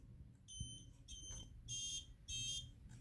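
A high-pitched RFID access-denied buzzer on an automatic gate system sounds in four short bursts, evenly spaced, over a low background hum.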